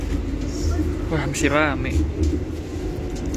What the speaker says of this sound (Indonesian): Beginilah kira-kira ya kalau kereta makan di stainless steel generation 2 ya